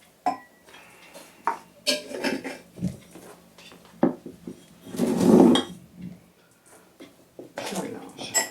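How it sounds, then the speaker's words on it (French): Potassium dichromate and pigment being stirred together for gum bichromate photographic printing, giving soft clinks and scrapes of utensil against a container in irregular bursts, with a louder rustling swell near the middle. "Je mélange"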